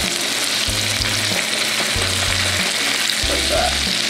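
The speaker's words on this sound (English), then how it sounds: "I'm gonna put this face down in the skillet" A seasoned tarpon or cobia fish throat fries face down in a skillet with loud, steady sizzling and crackling of hot oil, plus a low repeating hum beneath it and no talk.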